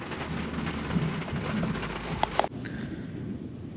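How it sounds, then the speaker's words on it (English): Heavy rain pours down hard and fast in a steady, loud hiss near a pond and new road work, and a sharp crack of thunder breaks through partway. "It's been a while since it rained that hard, that fast."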